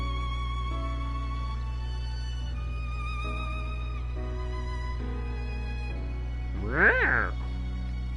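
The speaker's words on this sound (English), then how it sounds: "That's my cat." A single drawn-out cat meow, close and fairly loud, near the end over steady electronic game music and hum.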